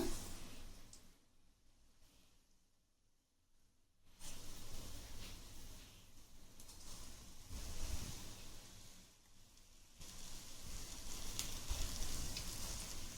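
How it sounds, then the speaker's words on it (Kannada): Snake gourd bajji pieces deep-frying in hot oil, a steady faint sizzle and hiss that swells and fades as pieces go in and are turned. "ಈಗ ಒಂದೊಂದಾಗಿ ಎಣ್ಣೆಯಲ್ಲಿ ಕರ್ಕೊಳ್ಳೋಣ."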